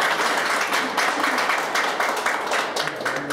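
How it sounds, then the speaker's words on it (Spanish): Lively applause for a student at a Peruvian school environmental awards ceremony, a dense patter of many hands clapping close by, pulsing slightly in waves and unbroken for the whole stretch. "Un aplauso también para nuestra alumna."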